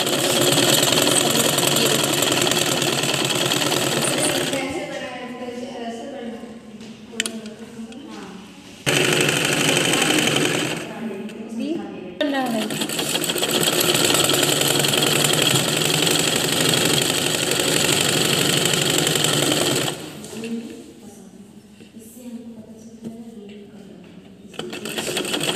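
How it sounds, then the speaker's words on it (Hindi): A sewing machine stitching a fabric strip for a smocking frock, running in loud continuous mechanical bursts with pauses in between, while someone talks during the quiet stretches. "ये देखिए हमने पट्टी को ये पूरा सिल दिया है"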